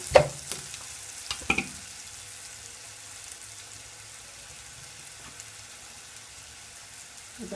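Frying in oil in a pan as part of a rajma masala curry, a soft, steady sizzle in the background, with a couple of sharp utensil knocks near the start and a faint clink later.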